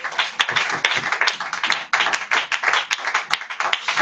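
A church congregation claps for Jesus, with fast, dense, sharp claps packed together loudly and continuously, no voices standing out.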